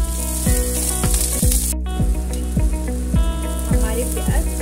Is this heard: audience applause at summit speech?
no